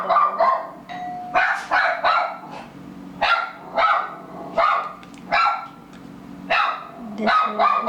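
A pet dog named Danny barks repeatedly indoors, the loud, close yaps coming in quick bursts and clusters across the whole stretch, with short gaps between volleys and no talk over them.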